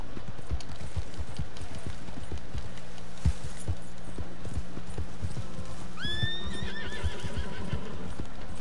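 Steady clip-clop of a mare's hooves trotting along in Red Dead Redemption 2, then the horse whinnies sharply partway through, both close and clear over a noisy background.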